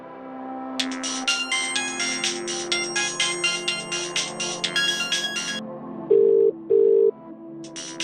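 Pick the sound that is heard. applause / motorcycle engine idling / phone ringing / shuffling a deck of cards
phone ringing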